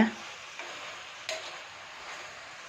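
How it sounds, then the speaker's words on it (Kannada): Tomatoes fry in a pan with a soft, steady sizzle at moderate distance, interrupted by a couple of light clinks from a stirring utensil. "ನೋಡಿ ಟೊಮೆಟೊ ನೀಟಾಗಿ ಫ್ರೈ ಆಗ್ತಾ ಇದೆ"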